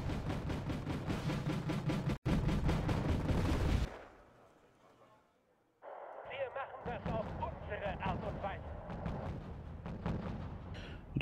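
Bursts of gunfire from special forces in the Wargame Airland Battle video game, a dense rapid rattle of shots for a few seconds, then a pause and further clattering combat sounds amid game effects.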